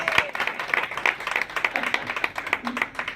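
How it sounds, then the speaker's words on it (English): A stand-up comedy audience breaks into applause, a moderately loud burst of clapping with distinct individual claps standing out and a few crowd voices mixed in. "Raucous screams and applause for my new child"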